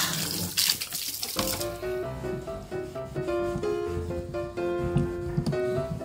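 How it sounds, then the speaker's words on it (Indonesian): Water runs steadily from a tap into a container during moss and scale cleaning, a continuous splashing flow with a faint ringing, filling tone, heard alone. "Ini saya masukkan terlebih dahulu airnya."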